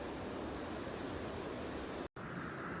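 Strong surf breaking at a beach on North Stradbroke Island near Brisbane, a steady broad roar of waves with wind, no voices.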